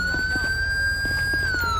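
A police car siren from the video game GTA 5 wails during a nighttime traffic stop, a steady, loud electronic tone that holds nearly level with a faint rhythmic pulse underneath.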